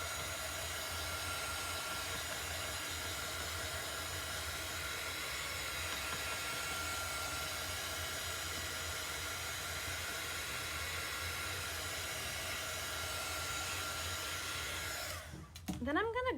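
A hair dryer blows steadily and close to dry chalk paste on a vintage truck craft project, a constant airy whir that runs unbroken for about fifteen seconds before cutting off with a short rustle at the end.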